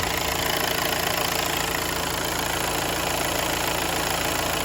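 A car engine idles steadily after an engine change, a close, constant mid-pitched drone with a faint knocking pulse running throughout and no talk.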